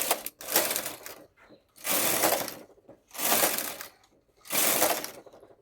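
A knitting machine carriage is pushed back and forth across the bed knitting rows of tuck lace pattern, four loud rattling sweeps separated by short pauses.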